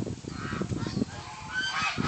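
A flock of geese honks repeatedly and fairly close, a busy overlapping chorus of calls that runs the whole moment with no talking.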